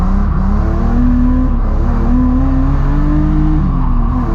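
A drift car at Driftland during a night drifting session revs loud and close as the driver gets back on the throttle, its engine note rising and falling in sustained waves with a rough, gravelly roar underneath.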